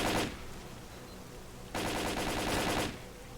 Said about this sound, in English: There's a firefight going down.